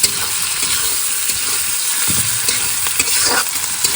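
Spices fried in hot oil in a pan for a fish curry: a steady, close sizzle that fills the clip, with spoon stirring and scraping on top and no talk.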